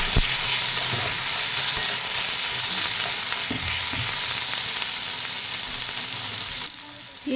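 Chopped onion and green chili fry in hot oil with black cumin seeds and bay leaves, a dense, continuous close sizzle with faint stirring clicks, dropping off abruptly just before the end.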